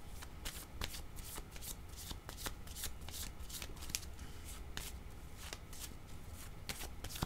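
Playing cards being shuffled continuously in the hands, a steady fast riffle of soft flicks and slaps for several seconds, quiet and close with no talk.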